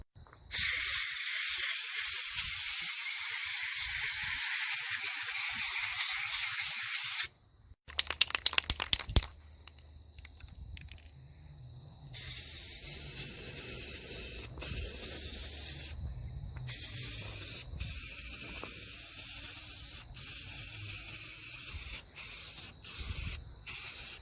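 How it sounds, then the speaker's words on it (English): Aerosol spray paint hisses in long continuous bursts onto the decklid of a 2000 Lincoln Town Car, loud and close, with a pause and some clatter midway before steady spraying resumes in repeated passes. "Probably going to use spray paint on all the Decklid when I get done with it"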